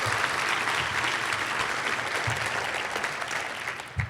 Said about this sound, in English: Give Pete a big round of applause for the work he's doing.